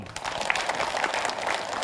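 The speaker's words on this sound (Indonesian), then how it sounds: "Masya Allah, tepuk tangan." Brief, steady applause from a crowd at a Ramadan Islamic study gathering (majelis taklim), a dense patter of many hands clapping at once for under two seconds.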